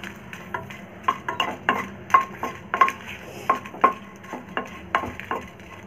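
Dried red chillies tossed in a little oil in a pan, with a steady series of close, sharp metallic clanks and scrapes as the spatula stirs against the pan, about two per second, with no talk.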